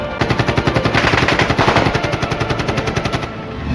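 Rapid bursts of automatic gunfire crackle loudly and continuously for a few seconds in a Frontier Corps firefight in Khyber Pakhtunkhwa, a dense rattling stream of shots that cuts off near the end.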